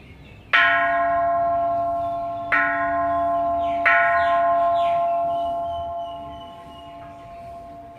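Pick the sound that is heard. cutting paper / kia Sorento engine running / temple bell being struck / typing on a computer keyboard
temple bell being struck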